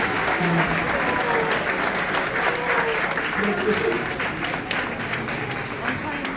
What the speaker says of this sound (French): Applaudissez-le, parce que la dernière partie encouragée